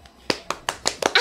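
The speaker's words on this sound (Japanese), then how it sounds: "そんな拍手する" Hands clap six times in quick, slightly uneven succession, each clap a sharp, close, crisp slap in an otherwise quiet room.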